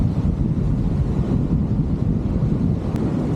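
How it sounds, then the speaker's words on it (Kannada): Strong, cold monsoon wind at the beach buffets the microphone in a steady low roar, with a faint wash of surf underneath. "ಸಿ ಹಿಯರ್ ಕೋಲ್ಡ್ ಗಾಳಿ ಬರ್ತಾ ಉಂಟು ಆ್ಯಕ್ಚುಲಿ"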